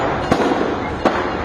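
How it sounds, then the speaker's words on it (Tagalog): Firecrackers go off in quick succession at a fireworks factory in Lapu-Lapu City, Cebu, with two sharp loud bangs over a dense, continuous crackling roar. "Umaalingaw-ngaw ang sunod-sunod na paputok kahapon ng tanghali"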